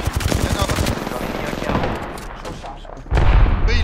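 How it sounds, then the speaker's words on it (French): Rapid automatic gunfire in a French-language online battle-royale shooter, dense bursts crackling from more than one direction, with a heavier, louder volley near the end. "Ah ouais, mais on me tire des deux côtés."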